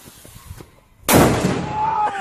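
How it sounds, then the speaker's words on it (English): A firecracker goes off in someone's trouser pocket: after a second of quiet rustling, one sharp, loud bang, followed by a ringing, crackling decay. "So he gets to play with fireworks."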